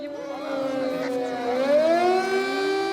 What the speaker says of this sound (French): Des sirènes qui retentissent et une course rapide vers les abris.